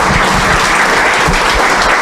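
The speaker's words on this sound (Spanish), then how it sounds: "Démosle un aplauso aquí a nuestro amigo." Applause at a formal academic induction ceremony honoring an 89-year-old scholar, a steady, dense clapping from the audience filling the hall, loud and continuous without pause.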